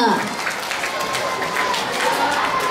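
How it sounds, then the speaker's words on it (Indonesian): Audience clapping for a woman after a poetry recitation, steady applause of many hands at close range, mixed with voices talking over it. "Ibu, tepukan untuk Ibu Gobiga."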